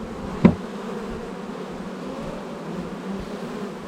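Agitated bees fly all over around their hive, making a steady, close buzzing drone with one louder insect zipping past near the start.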